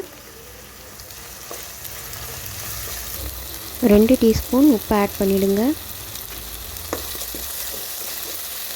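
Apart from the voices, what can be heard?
onions sautéing in hot oil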